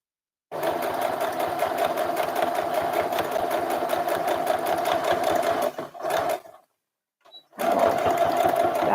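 Sewing machine stitching along the neckline of a little girl's dress, a loud rapid rhythmic chatter running several seconds, briefly pausing and then restarting.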